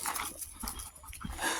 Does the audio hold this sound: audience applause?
no